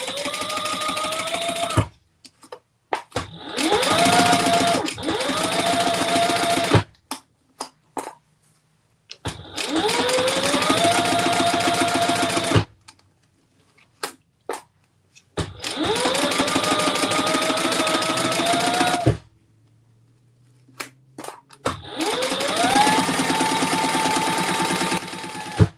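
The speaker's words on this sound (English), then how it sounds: "All right, let's sew this." A sewing machine stitches a bag handle seam in several bursts of rapid, even needle clatter, each lasting a few seconds, separated by short pauses and quiet handling sounds.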